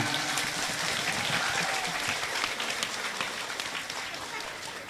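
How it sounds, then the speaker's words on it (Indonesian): A crowd at an Islamic religious gathering applauds, a dense, even wash of clapping that stays fairly faint and distant throughout. "kasih tepuk tangan."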